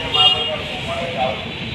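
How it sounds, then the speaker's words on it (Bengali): A Bangladesh Railway locomotive approaching from Kamalapur sounds its horn, a loud, sustained tonal blast that swells and fades across the short span over a steady roadside background. "হরেন বাজি আরো একটি ট্রেন আসতেছে"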